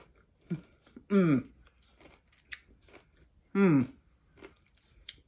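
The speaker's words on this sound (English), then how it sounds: "Still nice and crunchy, because I do like crunchy sauerkraut." Crunchy lacto-fermented sauerkraut, four weeks fermented, being chewed close to the mouth, with two loud crisp crunching bursts among softer chewing and mouth sounds.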